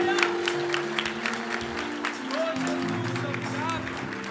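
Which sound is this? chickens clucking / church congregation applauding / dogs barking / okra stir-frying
church congregation applauding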